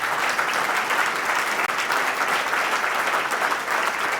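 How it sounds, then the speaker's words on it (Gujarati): An audience at a devotional spiritual gathering claps in sustained, dense applause, many hands at once, loud and continuous from start to finish. "તાલી પાડો, એમાં તાલી પાડાવી."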